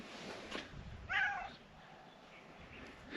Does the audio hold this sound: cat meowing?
yes